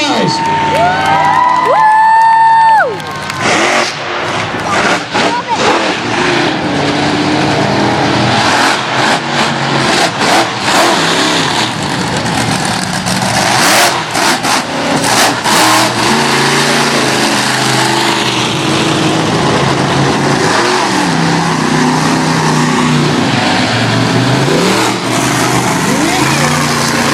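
A monster truck racing engine roars and revs loudly across the whole stretch, with a crowd cheering underneath and a voice talking briefly near the start.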